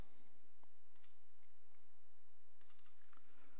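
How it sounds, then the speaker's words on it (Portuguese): A computer keyboard clicks as a file name is typed: a few scattered keystrokes, then a quick burst of clacks near the end, close and fairly faint with no talking. "Vamos digitar backup ad1.bkp."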